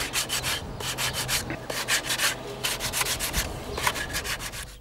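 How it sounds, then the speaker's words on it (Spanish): Sanding pine wood by hand for a shepherd's flute, a steady run of rough rubbing strokes in close, even rhythm, with no talk. "Estamos refinando la madera para que esté más, más suave la flauta, la gaita."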